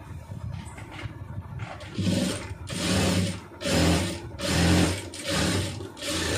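A sewing machine stitches a round neckline in short whirring bursts, about five of them at a steady rhythm, loud and close with brief pauses between, after a softer start.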